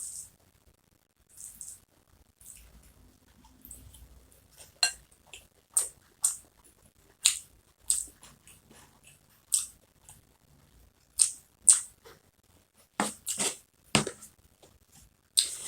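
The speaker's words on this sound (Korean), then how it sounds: "자 이제 먹어보도록 하겠습니다" Bibimbap is eaten up close, with scattered crisp bites, spoon clinks and short bursts of chewing that grow more frequent toward the end.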